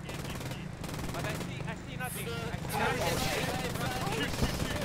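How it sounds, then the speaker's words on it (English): Rapid bursts of automatic gunfire and steady machine-gun rattle from a combat video game, continuous and fairly loud beneath an engine-like rumble. "They're starting to take shots!"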